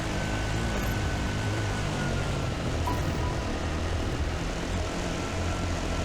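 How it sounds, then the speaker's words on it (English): A helicopter flies overhead in the Dakar Desert Rally video game during a quad stage, giving a steady, droning rotor and engine hum that holds at an even, moderate level throughout without any speech. "Yeah, I get it, helicopter in front of me"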